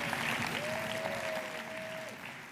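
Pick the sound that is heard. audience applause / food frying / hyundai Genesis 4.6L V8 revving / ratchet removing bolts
audience applause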